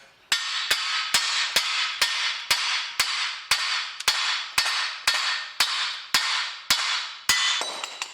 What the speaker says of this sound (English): maybe it's going to be quite loose just to hit with a hammer